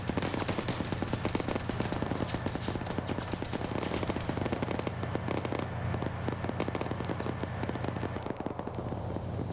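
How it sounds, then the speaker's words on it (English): Heavy .50 caliber machine gun fire in a video game, a dense, continuous rattle of rapid shots and impacts running throughout at steady, loud level with no pauses. "that gun is definitely disabled with the amount of 50 cal it just soaked"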